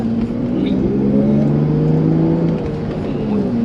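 A Mercedes-Benz W126 300SEL engine revs with a deep, throaty rumble that rises and settles, loud and close, with voices faintly underneath.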